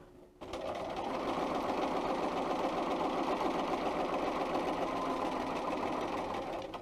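A sewing machine runs steadily while stitching a seam along a piece of fabric, a continuous close mechanical whir that starts after a brief pause and holds without speech.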